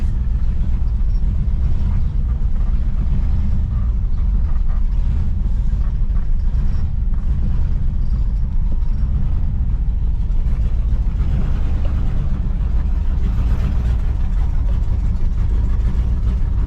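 A 1964 Pontiac Catalina barn find, running and driving again after more than 30 years, its engine droning steadily and fairly loudly throughout with a rough, continuous rumble and no pauses.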